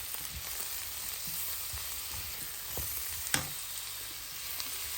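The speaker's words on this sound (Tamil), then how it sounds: "நல்லா ஒரு 1 மினிட் நல்லா எல்லாத்தையும் மிக்ஸ் பண்ணிவிடுவோம்" Baby carrots being caramelized in butter in a pan, stirred so they fry with a steady sizzle, plus scattered scrapes and one sharp utensil knock near the end.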